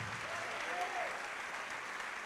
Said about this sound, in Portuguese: Vamos aplaudir a palavra e a fidelidade de Deus